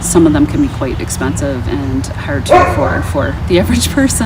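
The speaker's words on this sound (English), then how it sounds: "Sorry about my dog." A pet dog barks and yips repeatedly indoors, close by, while a person keeps talking steadily over it.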